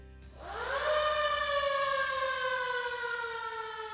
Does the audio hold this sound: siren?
yes